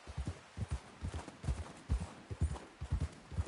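A horse's hooves clip-clop at a steady trot in the game Red Dead Redemption 2, with a regular, close, rhythmic beat of thuds and no talking.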